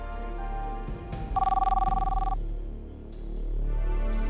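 A cell phone rings with a steady electronic tone lasting about a second, heard over a dramatic music bed, with no voices.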